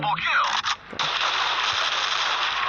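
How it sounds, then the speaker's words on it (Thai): A shotgun, the Evil AA, fires in the video game Crisis Action. Loud, close blasts burst with a sharp crack, followed by a sustained, roaring report and a ringing tail. "เนี่ยมันจะยิงออกหลายลูกนะ ลูกสองนี่แรงครับ"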